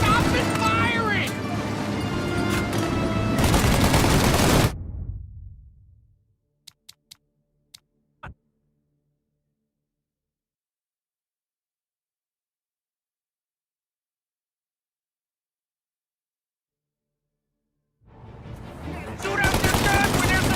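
Machine-gun fire in a Mafia Definitive Edition gunfight rattles loud and dense under shouted voices for nearly five seconds, followed by a handful of lone sharp shots, a long silence, and the battle noise resuming near the end.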